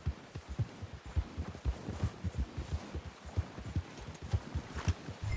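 Horse hooves clip-clopping at a steady trot in the video game Red Dead Redemption 2, a close, even rhythmic beat over a low background hum, with no talk.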